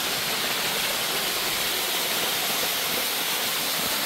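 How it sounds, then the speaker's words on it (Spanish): A clear mountain stream flows with a steady, even rush of water that stays constant and close throughout, with no voices. "Qué clarita es el agua, miren."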